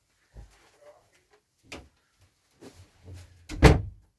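A door is pushed shut indoors, giving a few soft knocks and scuffs and then one firm, fairly loud thud at the end, close by, with no talking.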